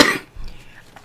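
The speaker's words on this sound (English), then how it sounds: "Excuse me for my coughing." A woman coughs once near the mic during a tarot card reading, a short harsh burst followed by quieter throat noise and breath.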